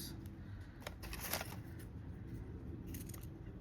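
Scissors snip through the trailing tails of a craft folder's tie, a few quick quiet cuts close up against a faint room hush.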